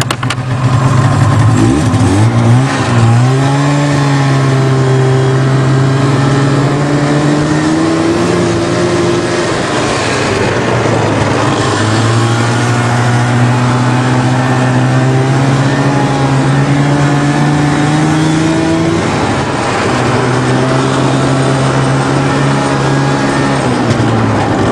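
The 3.0 engine of a 1988 Nissan 4x4 truck starts cold in snowy, minus-ten weather, then idles loudly up close with a few slow rises and falls in revs and nobody speaking.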